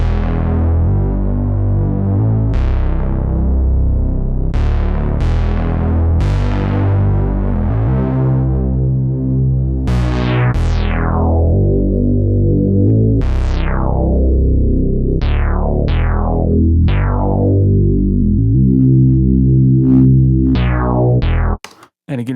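A dark synth bass played as a single solo voice with glide, repeating a loud sustained melody line whose notes slide into one another, alone and steady throughout.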